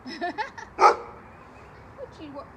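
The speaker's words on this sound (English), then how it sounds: "What you barking at, dude?" A dog gives a few short barks and yips close by, with a brief pause and quieter whimpering noises after.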